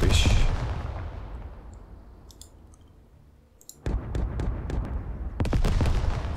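A panzer in a World War Two strategy game opens up: a big main gun boom decays into quiet, then sharp clattering machine gun bursts and further blasts follow, loud and close, with no talking.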